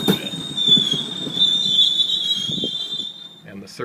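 An Amtrak Pacific Surfliner train with a cab car on the rear passes at San Luis Obispo, its wheels letting out a sustained high-pitched squeal over the rumble of rolling cars, close and loud before easing off near the end.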